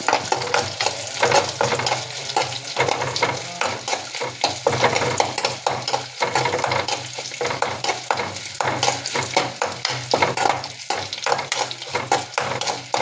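Chopped green chillies sauté in a pan for a sardine curry, a loud close sizzle broken by repeated scraping and clinking stirs in an uneven, busy rhythm, no talk.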